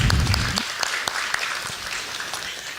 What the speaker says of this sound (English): y'all deserve a round of applause too